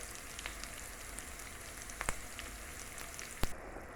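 Sauce for Jamaican brown stew fish cooks in a pan with a steady, close sizzling hiss and fine crackles, with a few sharper pops scattered through and no talking.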